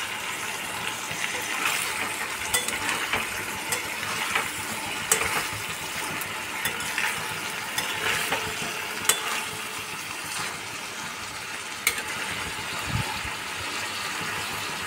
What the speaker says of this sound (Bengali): আস্তে আস্তে ভেজে রাখা সমস্ত সবজি, দেখো আমি যে ভেজে রেখেছিলাম সমস্ত সবজিগুলো দিয়ে দিলাম